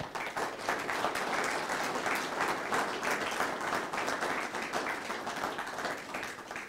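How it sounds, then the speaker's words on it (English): Sustained, even applause from an audience at a Pearl Harbor remembrance ceremony in Oshkosh, a soft continuous wash of many hands clapping. "please give a round of applause to Wayne Amburn."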